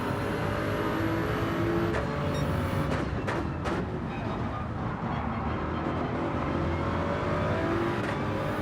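A Corvette race car roars steadily in Gran Turismo 7, its engine drone constant and loud throughout with brief gearshift-like breaks and no speech.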